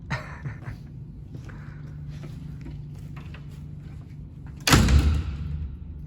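An office door in a new technology-park office swings shut with one loud, close thud near the end, after several seconds of quiet room hum and faint shuffling. No lock click stands out separately.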